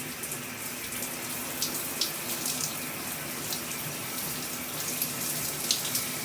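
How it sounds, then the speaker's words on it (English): Running water streams steadily over hair during a rinse at a wash-day routine, a close, continuous rushing spray with small splashy bursts and no talking. "And just rinse it out."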